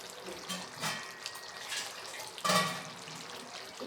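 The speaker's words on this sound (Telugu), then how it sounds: "ఇందులో ఏం చేద్దామంటే కాస్త వాటర్ పోద్దాం." Water poured into a pan of cooked chicken curry, heard as a soft, uneven splashing and trickling over a low simmer, with a brief louder splash midway.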